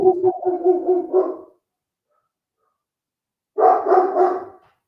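A huge year-old dog barks loudly and close in two bursts of rapid, deep barks separated by a couple of seconds of silence.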